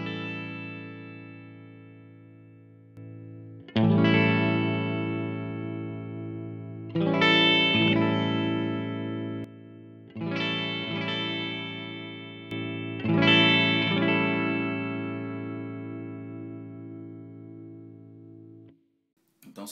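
Four strummed electric guitar chords played through a BBE Boosta Grande boost pedal ring out one at a time, each sustaining and slowly fading, with a lightly gritty, slightly saturated tone.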